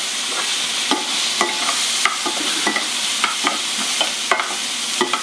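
Cherry tomatoes dropped into a hot pan with bacon, a loud close sizzle broken by repeated sharp pops and stirring clatter as they hit the fat.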